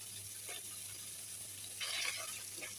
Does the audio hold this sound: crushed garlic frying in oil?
yes